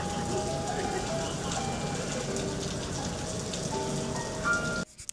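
A Florida afternoon rain shower patters steadily on surfaces, dense and close, with a voice talking over it before the sound cuts off abruptly near the end.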